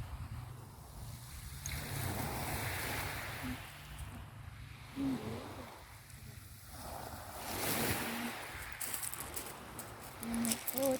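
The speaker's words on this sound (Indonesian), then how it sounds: "Kolbano Beach atau Pantai Kolbano yang berada di Desa Kolbano, Kabupaten Timur Tengah Selatan, Provinsi Nusa Tenggara Timur, Indonesia." Ocean waves wash ashore at Kolbano Beach in East Nusa Tenggara, Indonesia, a faint rolling surf that swells and recedes in slow surges under steady wind noise.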